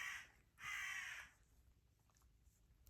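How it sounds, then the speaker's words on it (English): Two harsh crow caws ring out in quick succession, the second longer, at moderate distance with faint background quiet afterward. "the crows are wanting their breakfast,"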